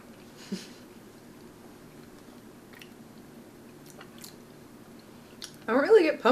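Someone bites into and chews a pumpkin spice Oreo cookie, with soft close-up crunching and mouth sounds over a quiet room, ending in a louder burst of chewing.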